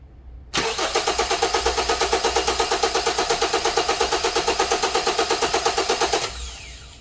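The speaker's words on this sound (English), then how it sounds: "So if I crank the engine one more time, look at the measurement" Car engine cranking on the starter during a starting system voltage drop test, a steady rapid chugging rhythm for about six seconds, close and loud, then cutting off without catching.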